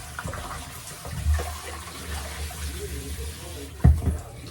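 Fresh cut chicken washed repeatedly under a running kitchen tap, with a faint, soft stream of water and a few louder splashes as the pieces are handled.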